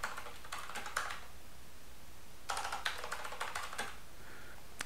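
Keystrokes on a computer keyboard while a password is entered during a Raspberry Pi OctoPrint setup on a Mac, two short bursts of quick, close, fairly quiet tapping separated by a pause.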